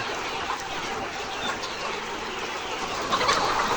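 Layer hens clucking on a poultry farm make a dense, steady chorus of overlapping clucks and calls at moderate distance. No one speaks over them.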